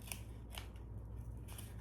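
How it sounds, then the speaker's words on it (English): Scissors snip small holes in a squished container for a DIY cat food puzzle, three quick crisp cuts close by and alone. "we can make a few holes with the scissors"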